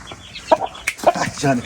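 A rooster, a prized fighting cock, clucks in several short, close bursts, with a bit of background voice mixed in.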